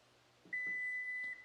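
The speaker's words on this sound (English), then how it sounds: "I think you stop it when it does its double beep after you hold it the first time" A 2023 Toyota Prius power hatch sounds one steady, clear electronic beep held for nearly a second, preceded by faint soft clicks and thumps nearby; no one speaks.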